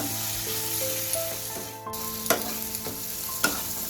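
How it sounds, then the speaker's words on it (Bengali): Spice paste for a lote fish jhuro is stir-fried in a pan: a steady close sizzle with scraping spatula strokes, a brief dip near the middle, then sharper stirring knocks, and no voices. "দিয়ে মশলাটাকে আমি আবারও ভালো করে মিনিট 3-4 কষিয়ে নেব।"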